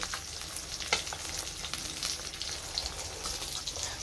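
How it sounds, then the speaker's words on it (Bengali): A piece of fish frying in hot oil in a home kitchen, with a steady crackling sizzle and scattered sharp pops, close and fairly quiet, no talking. "গরম তেলে দিয়ে দিয়েছি ভাজার জন্য"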